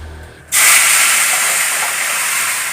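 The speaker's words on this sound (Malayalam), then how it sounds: "നമുക്ക് പുളി ഒഴിച്ചു കൊടുക്കാം" Tamarind water hits a hot pan with a sudden loud hiss that settles into a steady, steamy sizzle.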